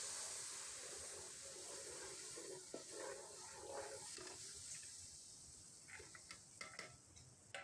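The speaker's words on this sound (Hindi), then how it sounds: "थोड़ा सा इसको गोल्डन ब्राउन करने के बाद इसमें हमने डाल देना है पानी" Halwa browned to golden in a hot pan sizzles loudly as water is poured in: a steady, broad hiss with stirring and light scraping clatter that grows more frequent toward the end. No one speaks.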